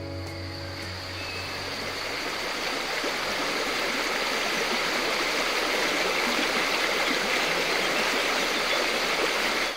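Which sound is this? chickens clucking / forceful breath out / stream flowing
stream flowing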